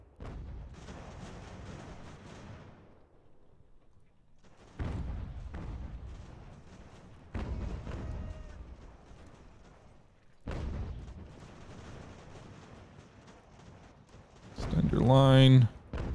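Artillery batteries fire cannon in Ultimate General: American Revolution, a battle game. Several heavy booms land a few seconds apart over a steady wash of battle noise, and a voice speaks throughout.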